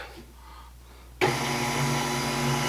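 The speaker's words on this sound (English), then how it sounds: "Then we're just going to mix this together here quick" An electric mixer switches on partway through, whirring loudly and steadily as it blends donut batter with a teaspoon of vanilla after a quiet moment of room noise.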